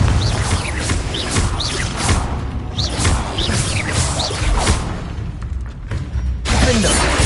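Confringo blasting spell from Hogwarts Legacy going off as sharp, shattering explosive bursts with whooshes, repeated across a busy, loud stretch of game combat with no speech.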